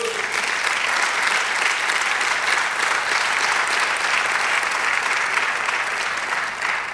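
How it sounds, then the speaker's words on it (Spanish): A church congregation gives sustained, dense applause during a service, steady and fairly loud for several seconds, filling the room evenly. "Dale un aplauso al Señor."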